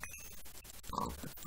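A pig in the video game Minecraft grunts briefly amid game sounds, with short clicks and taps around it and a burst of oinking near the middle of the moment.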